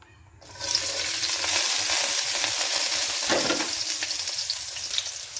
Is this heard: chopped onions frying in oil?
yes